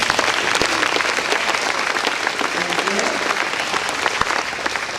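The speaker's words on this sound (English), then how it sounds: "Please wave and give them a round of applause." Audience applause at an agricultural awareness luncheon, loud, sustained clapping from a large room that holds steady throughout with a few sharper individual claps standing out.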